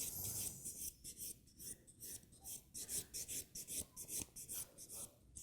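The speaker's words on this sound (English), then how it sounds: "Now I'm going to buff the nails with my clean finish buffing file" Fingernails are buffed side to side with a clean-finish buffing file, giving a soft, close rasping with quick repeated strokes and no talking.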